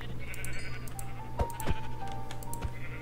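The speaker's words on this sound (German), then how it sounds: "Okay, hier sind so viele Schafe gerade." Sheep bleating in the Minecraft video game, with several short, close bleats in quick succession over keyboard typing and clicks, with no talking.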